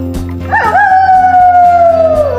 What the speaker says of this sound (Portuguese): Uivando de dor, o lobo correu pela floresta.